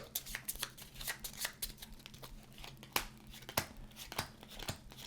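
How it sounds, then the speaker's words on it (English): A deck of bonus cards for a board game gets shuffled by hand, crisp riffling bursts and papery snaps repeating in quick irregular strokes, close and clear with no talk. "We're going to give it a good shuffle and we're going to deal out 5 cards."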